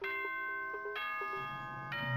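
A doorbell-style ding-dong chime from the game Danganronpa rings out as bright sustained tones, with a second strike about a second later and a third near the end, over a soft music bed.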